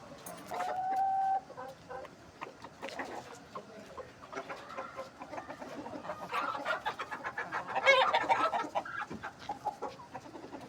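Aseel chickens cluck and chatter close by, a busy flock with overlapping calls that swell louder toward the end, plus a brief higher squawk early on.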